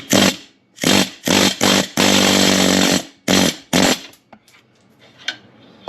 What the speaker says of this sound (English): we gotta get this little roll pin out right here so we can slide the drive shaft off of the diff